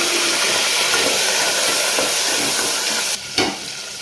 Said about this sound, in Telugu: ఇప్పుడు ఈ నానిన వీటిని అయితే ఆయిల్లో వేసుకోవాలి